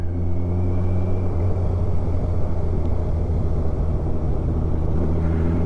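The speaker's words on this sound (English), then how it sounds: "trying to be careful with the throttle. Certainly don't want to rev it too much." Kawasaki Ninja 1000SX motorcycle, a 2020–2021 model, idling and lightly blipped on a gentle throttle, giving a steady low engine rumble with strong harmonics that holds at an even level throughout, close and alone with no talk.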